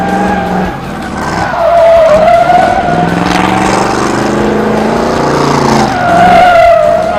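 A car fitted with a new positraction rear end and 350 gearing skids around a race course, its tires squealing in long wavering bursts over a loud, steady engine roar.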